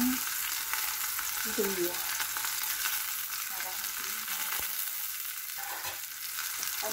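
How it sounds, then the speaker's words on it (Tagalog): Lapu-lapu fish fries in a pan with a dense, constant crackling sizzle over several seconds, with scattered stirring scrapes and a brief spoken word. "Piprituhin muna natin ang ating lapu-lapu."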